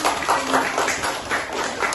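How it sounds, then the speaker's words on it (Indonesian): Schoolchildren in a classroom clap together in steady, rhythmic bursts, a close and fairly loud patter lasting a couple of seconds. "silakan duduk, beri tepuk tangan"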